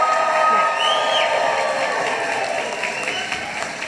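A graduation crowd at a college commencement ceremony cheers and applauds for the class of 2023, producing a dense, loud, sustained roar of clapping and voices that fills the hall.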